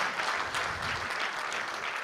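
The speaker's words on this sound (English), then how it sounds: "I think that Moses needs a big round of applause" A church audience claps in a round of applause, a dense, steady patter of many hands heard close.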